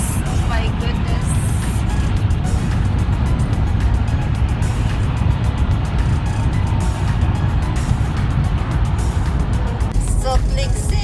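Steady city traffic in Salt Lake City, cars and a bus rolling past in a continuous loud rumble, with talk over the top throughout.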